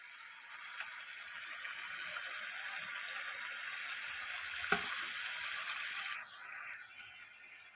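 Yogurt is stirred into a bata fish curry with mustard and poppy seed paste in a pan, giving a faint steady simmering hiss with a couple of soft utensil knocks near the pan.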